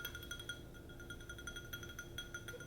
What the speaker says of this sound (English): Tapping your glass.